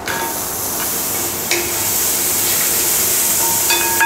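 Chopped coconut pieces hit a hot pan for a Kerala-style prawn theeyal, a loud continuous sizzle and hiss close up, with a slight jump as the pieces go in and faint clinks near the end.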